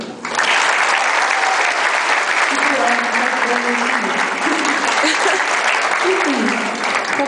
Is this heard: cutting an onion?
no